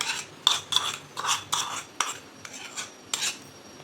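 Mango pulp being mixed into dough in a bowl for traditional dhonde, heard as a run of rhythmic wet scraping and stirring strokes, fairly close with no talk.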